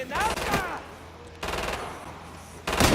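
Gunfire in the video game Killing Floor 2 comes as three loud bursts of rapid shots, separated by short quieter pauses.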